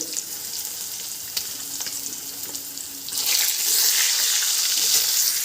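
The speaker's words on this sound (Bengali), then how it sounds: "এবার দিয়ে দেবো আলু আলুটাকে বেশ ভালো করে ভেজে নেবো" Potatoes go into a pan and fry, a steady sizzle that swells louder and brighter partway through as they hit the hot oil, close and continuous with no talk.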